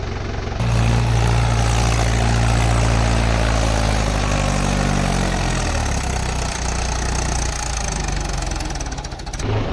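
A tractor engine labours loudly and steadily while climbing a slope in a village setting, with a deep knocking diesel rumble that shifts in pitch midway and continues throughout with no talk.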